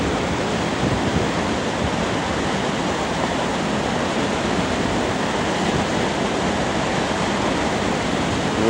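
Steady, unbroken roar of a waterfall at Gangotri, one of a series of falls beside a river among mountains and pine trees, loud and close, holding an even wash of rushing water throughout.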